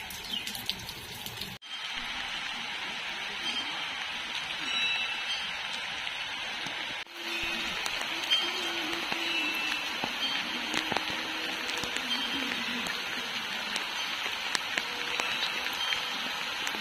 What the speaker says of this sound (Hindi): और बहुत बारिश हो रही है